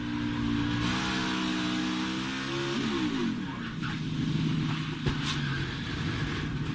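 A NASCAR Xfinity Series race car at Kansas runs at full throttle during practice and qualifying, its engine note rising and shifting through gears in a sustained, loud drone, with distant engines and track noise around it.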